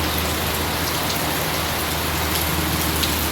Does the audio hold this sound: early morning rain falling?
yes